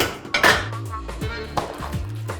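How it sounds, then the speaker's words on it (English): A spoon scrapes and clinks against a greased baking dish as mac and cheese mixture is scooped in, giving several sharp metallic knocks and clatters close by. "I'm gonna spoon my mixture into my baking dish, fill her up"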